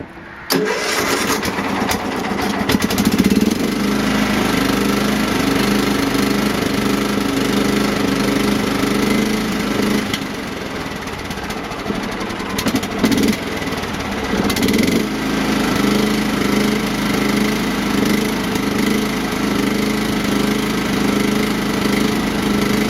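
John Deere lawn tractor engine with a new exhaust stack idling loudly and steadily up close, a continuous rumbling drone with a faint high whine, no voices.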